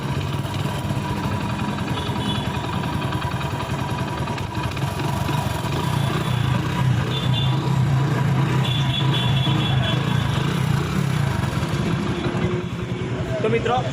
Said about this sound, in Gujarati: હવે આનું એન્જિન બનાવી દીધું છે તો એક વખત તમને સાઉન્ડ સંભળાવી દઉં.